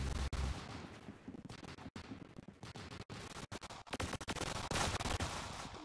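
Rapid gunfire in the Roblox Arsenal video game crackles almost without a break, with dense overlapping shots and brief gaps between bursts, loud and close with no talking.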